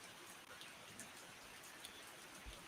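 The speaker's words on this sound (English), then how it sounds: "All right, so it's raining." Steady rain falling, a soft even patter and hiss with scattered drops, fairly quiet and continuous with no talk over it.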